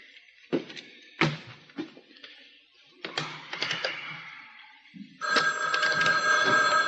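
Dialing on a telephone produces a series of clattering mechanical clicks, followed by a steady electric ring tone from the handset, near and clear with no voices.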